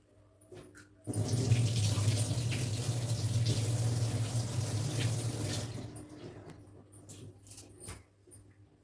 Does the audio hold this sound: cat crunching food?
no